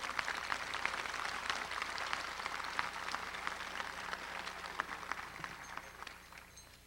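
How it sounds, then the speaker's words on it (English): Steady applause from a crowd at a high school graduation ceremony, dense clapping filling the room for several seconds before tapering off slightly at the end. "Let's give them a round of applause."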